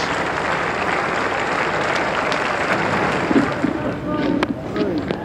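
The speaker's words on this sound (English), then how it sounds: "So applause around the ground." Crowd applause around the ground at a 1992 World Cup cricket match between Sri Lanka and South Africa, a broad wash of clapping with wind noise, and a voice comes in briefly near the end.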